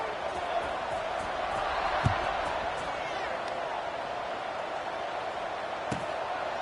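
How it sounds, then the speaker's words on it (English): Crowd ambience in a college football video game, Northern Illinois at Oregon after a score, a steady dense stadium buzz with a couple of faint thumps, running under a play-by-play commentator. "this crowd is buzzing after that last score"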